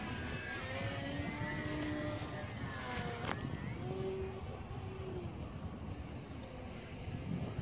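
A small drone flying outdoors at a remote location in cold weather, a steady whirring hum that shifts in pitch as it moves, heard continuously under wind noise without speech.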